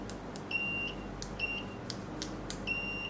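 Short electronic beeps from an LCR meter's continuity buzzer repeat three times, each a steady high tone lasting a fraction of a second, mixed with clicking and a constant background hum.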